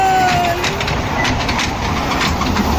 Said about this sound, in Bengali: সুন্দর ট্রেন চলছে